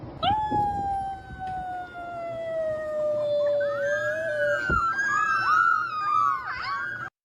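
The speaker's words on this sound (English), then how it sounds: "These puppies howl for the very first time." Young puppies howl together for the first time, a long wavering howl that slides slowly downward, then several small overlapping yips and whines rising and falling close by, with no talking.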